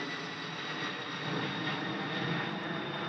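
An aircraft on a runway after takeoff clearance gives a steady, loud broadband engine roar that holds evenly throughout with no speech over it.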